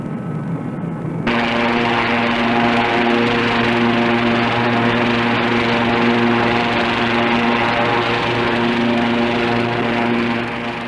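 An SRN5 hovercraft moving off over desert sand during 1964 trials, a loud steady engine and propeller roar with strong tonal hum that swells suddenly after a second and then holds constant throughout.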